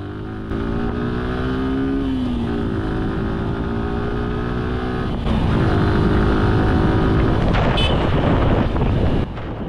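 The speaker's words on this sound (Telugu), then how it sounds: "థ్రాటిల్ ఇస్తున్నప్పుడు అసలు ఎగ్జాస్ట్ నోట్ అయితే చాలా నచ్చింది నాకైతే" A Suzuki Gixxer SF 155 sport motorcycle runs steadily under throttle, its engine and exhaust note droning loud and close over constant wind rush, with a brief pitch change partway through.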